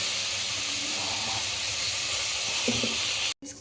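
Sour greens (pulicha keerai) dropped into a hot pan with onion, tomato and chili give a loud, steady sizzling hiss that fills the whole stretch, close up, cutting off briefly near the end before resuming.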